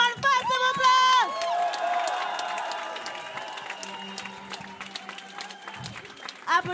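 Applause and cheering from a crowd at a live rap concert in the Antipode venue in Rennes, clapping and whoops swelling loudly, then tapering off as a voice speaks over it through the PA.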